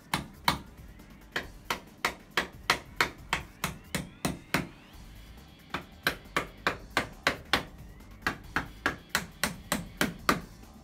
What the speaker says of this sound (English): That's what a hammer's for.